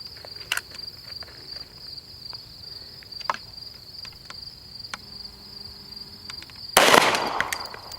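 Pistol shots fired outdoors at a target 40 yards away, heard as a few sharp, distant cracks spread across a quiet field with steady insect chirping, then one louder, closer bang near the end.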